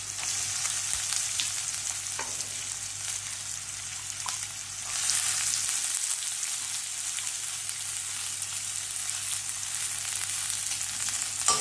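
Onion frying in hot oil with curry leaves, asafoetida and turmeric for a white-eyed pea curry, a steady close sizzle with occasional stirring scrapes and no voices.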